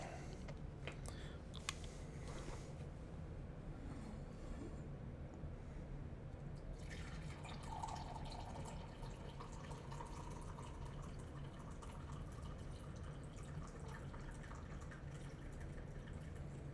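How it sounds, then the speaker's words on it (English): Tea is poured into a cup, a faint close trickle that starts midway and continues steadily in an otherwise quiet room. "Let me pour my tea and then we will begin."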